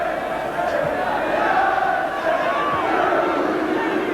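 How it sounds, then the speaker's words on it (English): A large football stadium crowd at a 1982 Norwich City versus Manchester City match jeers a returning player, a dense continuous roar of voices at a distance. "And the crowd not exactly giving him a warm welcome home."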